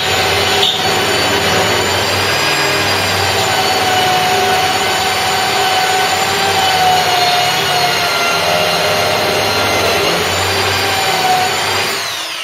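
A Sealy spot weld drill bit bores into a car body panel on a Ford Cortina GXL under restoration, a loud, steady high-pitched whine of the drill running continuously for several seconds before winding down, with no talk.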